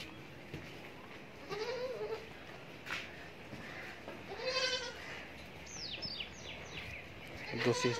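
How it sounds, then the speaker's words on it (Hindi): Rajanpuri goat kids bleating in short, wavering calls at a livestock market, several brief bleats scattered across the clip at moderate distance over a busy outdoor background, with a few chirpy bird calls near the end. "और ये देखें राजनपुरी बकरी बच्चे"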